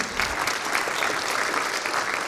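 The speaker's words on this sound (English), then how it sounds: "round of applause for George and his team." Steady applause from a conference audience at an engineering summit, a dense wash of clapping that holds at an even level throughout.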